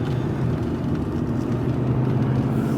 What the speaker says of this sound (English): Air compressor's running.